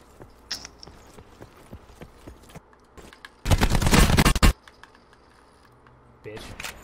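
In the battle royale shooter Black Ops 4 Blackout, scattered distant gunshots pop faintly, then a loud burst of sustained automatic fire rattles for about a second before sparse, quieter shots and light game sounds return.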